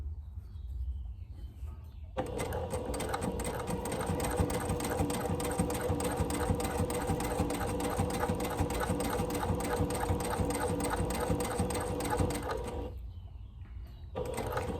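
Sewing machine stitching a bias strip onto a plaid shirt, running continuously at an even, rapid pace for about ten seconds between quiet pauses, close and clear.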